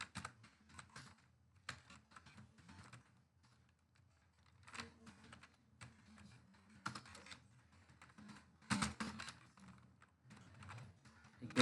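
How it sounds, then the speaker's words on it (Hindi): Bursts of typing on a computer keyboard while text is entered into a Word document, quiet close-up clicks coming in irregular runs separated by short pauses, with no voice. "यहाँ पर हम टेक्स्ट को टाइप कर देते हैं पूरा बड़ा"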